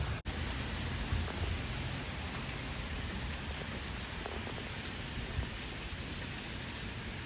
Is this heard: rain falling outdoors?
yes